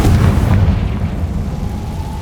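A Confringo fire spell bursts in the video game Hogwarts Legacy with a loud, deep boom that strikes at once, then rumbles and fades over about two seconds.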